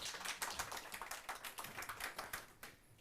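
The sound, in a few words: applause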